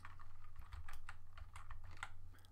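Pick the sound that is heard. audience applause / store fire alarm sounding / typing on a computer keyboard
typing on a computer keyboard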